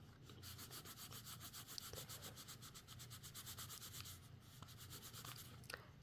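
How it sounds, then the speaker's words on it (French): An eraser rubbing steadily back and forth across paper, a soft continuous scratchy rasp, close and quiet with no talking. "Ça gomme bien"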